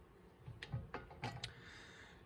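A wrench on the center bolt of a wheel hub assembly on a 2012 Ford Fusion gives a few faint, sharp metallic clicks and ratcheting knocks, spaced irregularly and quiet.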